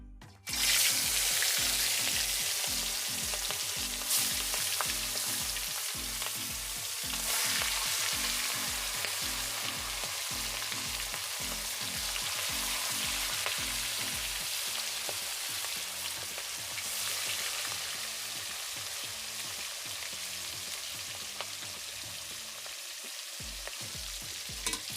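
Pieces of silver carp fish frying in hot oil give a loud, continuous, close sizzle with crackling spatter that runs steadily throughout, easing slightly near the end, with no talking.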